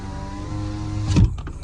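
The glass of a 2010 Honda Stream power window runs with a steady electric motor hum that ends in a short thump as it stops. No one speaks over it.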